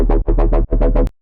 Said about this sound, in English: Then we have this third bass,